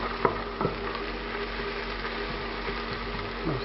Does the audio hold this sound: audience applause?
no